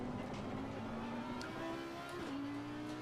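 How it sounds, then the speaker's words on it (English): Naturally aspirated V12 GT3 race car engine in the racing game Assetto Corsa Competizione, holding a steady high-pitched scream at high revs with small pitch shifts, loud and continuous throughout with no talking. "natural aspirated engine, V12, lots and lots of revs. Listen to that thing scream."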